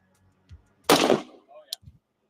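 A single sharp gunshot fired at a ballistic test target, one loud close crack with a brief decay, followed by faint handling clicks and a short voice.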